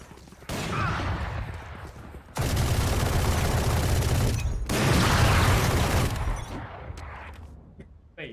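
Video game gunfire in long, loud sustained bursts, two heavy stretches of rapid firing separated by brief gaps, tapering into scattered lighter shots.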